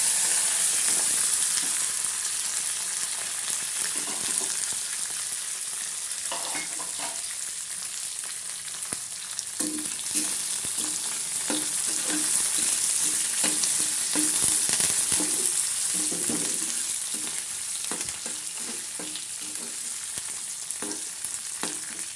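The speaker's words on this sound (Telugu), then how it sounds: "ఇదిగోండి తాలింపు వేగిపోయింది బాగా" An upma tempering of cashews, green chillies, onions, ginger and curry leaves sizzles in hot oil, with a continuous close crackle and repeated spatula stirs and scrapes.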